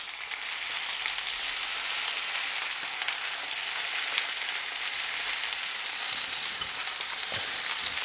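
Fish frying in a pan over low heat for a Thai-style dish, giving a steady, even sizzle and crackle that stays close and continuous throughout, with no voices over it.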